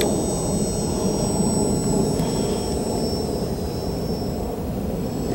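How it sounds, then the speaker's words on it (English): An RC dragon model plane flies at about half throttle, giving a steady, fairly loud motor drone with a thin high whine that holds constant throughout, with no talking. "I'm just flying at about half throttle."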